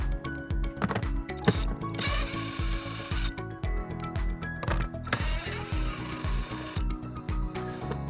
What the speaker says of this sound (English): We're going to remove these 2 nuts using a 10mm socket.